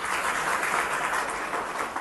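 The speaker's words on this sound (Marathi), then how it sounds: "एकदा सर्वांसाठी टाळ्या वाजवा तुम्ही." An audience at a Buddhist talk claps together in a dense, steady round of applause that holds evenly for about two seconds before cutting off sharply.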